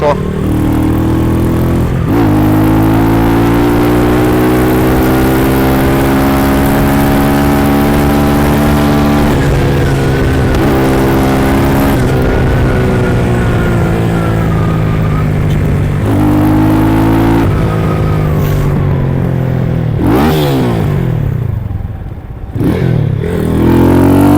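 A Minsk motorcycle engine runs loud and close on an evening ride, revving up and down through gear changes with a rough, buzzing drone that dips briefly near the end.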